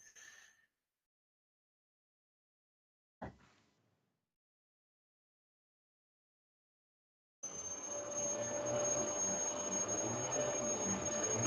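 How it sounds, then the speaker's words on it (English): A Hoover vacuum cleaner starts up partway through and then runs as a steady whining roar in the background, after mostly silence and a couple of brief knocks. "Can you hear that Hoover in the background?"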